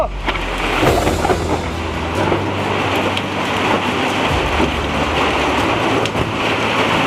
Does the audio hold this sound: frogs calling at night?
no